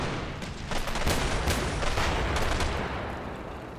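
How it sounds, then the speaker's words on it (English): Dense, continuous gunfire rattles against a building in a war video game, a steady roar of overlapping shots and booms from mid-distance with no speech. "they're shooting up the building there"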